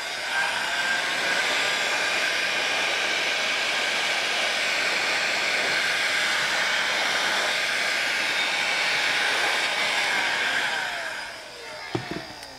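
A heat gun blows a steady, loud, close roar of rushing air while shrinking heat shrink tubing over a crimped wire connection on a boat, cutting out near the end with a few small handling clicks.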